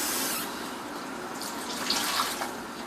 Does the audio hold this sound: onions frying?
no